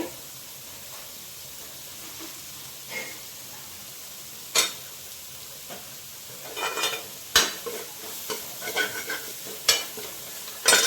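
Asafoetida drops into hot fat for palak dal, and a soft, steady sizzle runs beneath scattered clinks and scrapes of a spoon against the pan.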